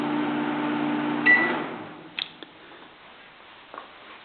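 A microwave oven hums steadily with a low drone, then cuts off, followed by a few sharp clicks and beeps over a quiet background.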